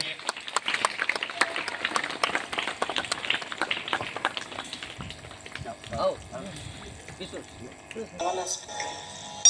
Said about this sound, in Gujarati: આપણે જોરદાર તાળીઓથી એમને વધાવીએ